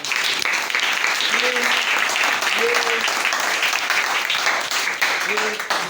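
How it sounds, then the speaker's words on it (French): A church congregation applauds, sustained loud clapping from many hands filling the room, with a voice speaking or calling out over it at intervals. "Acclamons pour Papa Wilcom."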